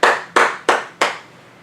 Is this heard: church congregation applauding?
yes